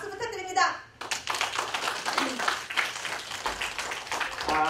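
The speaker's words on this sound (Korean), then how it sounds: "우리의 영원한 웃음 전도사 손상원 선생님 박수 부탁드립니다." Audience clapping at a community cultural lecture event, a lively burst of many hands that follows a speaker's introduction and carries on steadily at moderate loudness.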